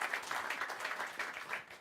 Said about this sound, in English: Bravo, applause, thank you so much.